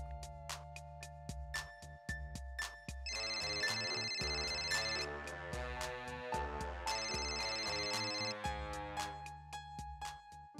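A phone ringtone plays after a redial in a Hindi sitcom, a melodic electronic ring repeating in phrases for about ten seconds, fairly faint and with no talk over it.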